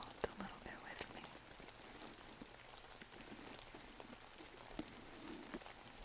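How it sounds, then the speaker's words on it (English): Soft, steady rain patters on a surface in the background, a gentle continuous wash with scattered drop ticks and a few brief louder taps, while a voice speaks quietly and closely over it. "Got some rain"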